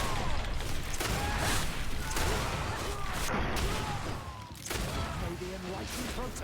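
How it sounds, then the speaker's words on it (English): Rapid bursts of gunfire ring out in combat in the video game Greedfall, a dense run of sharp cracks layered over a steady clamor of battle noise that never lets up. "Let's shoot them in the face."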